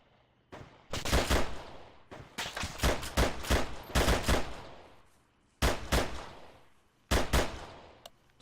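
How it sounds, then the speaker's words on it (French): Gunfire in the ArmA 3 video game, several bursts of rapid automatic shots spread across the clip, loud and sharp, with short quiet gaps between volleys. "on entend des coups de feu sur votre position"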